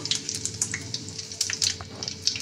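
Panch phoron spices and dried red chillies crackling in hot oil in a kadai, a steady close sizzle with scattered bright pops throughout.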